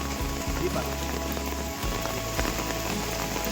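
Heavy rain pours steadily through a creek-side mangrove forest, a dense continuous hiss close around the listener with a low rumble underneath, lasting throughout.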